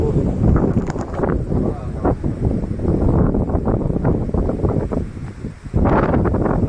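Strong wind at a hill station buffets the microphone with loud, continuous rumbling gusts that nearly drown out everything else.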